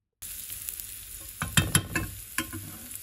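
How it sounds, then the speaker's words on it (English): Onions sizzle in a hot frying pan, a steady crackle with a few louder bursts and scrapes as they are stirred. "While the onions are sizzling,"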